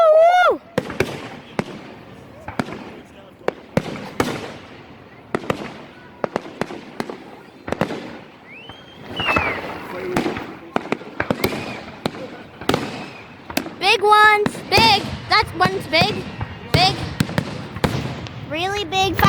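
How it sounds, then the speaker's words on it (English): Big Canada Day fireworks explode over a beach in a series of sharp booms and crackling bursts, louder and denser toward the end, while nearby spectators cheer and chatter. "really big fireworks,"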